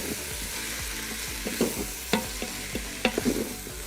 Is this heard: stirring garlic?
yes